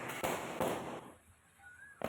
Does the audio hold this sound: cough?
no